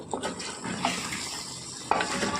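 A spoon stirs chicken chukka, cooked until the oil separates, in a pan with soft scraping and light sizzling, and a few sharper clinks against the metal stand out.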